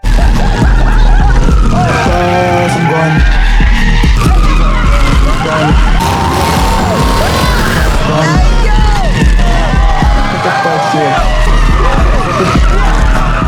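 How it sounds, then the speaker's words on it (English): Several cars race together with tires skidding and squealing, loud and continuous engine roar throughout, with music or voices mixed in and a crowd faintly present. "the guys took him on a wild car ride, even racing with others"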